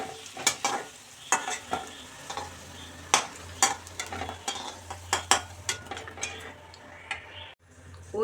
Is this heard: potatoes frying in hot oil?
yes